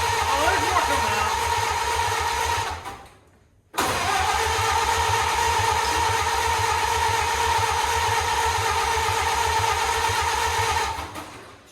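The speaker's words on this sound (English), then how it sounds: "I'm gonna turn it over a couple more times." Engine of a 1928 Ford Model A being cranked over with its starter, a loud, close, rhythmic chugging that runs for a few seconds, cuts out briefly, then cranks again steadily for a long stretch without catching.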